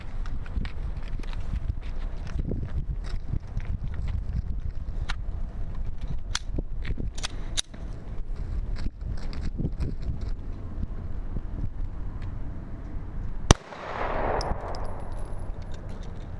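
A Glock 19 pistol fires G2 Research R.I.P. rounds into 12 layers of denim outdoors. One sharp, loud shot cracks near the end, over steady wind noise and scattered small clicks.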